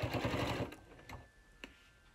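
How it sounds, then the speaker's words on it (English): Sewing machine running along the bottom seam of a fabric bottle bag: a short close whirring burst with rapid ticking that stops after under a second, followed by a few faint clicks. "sew it together"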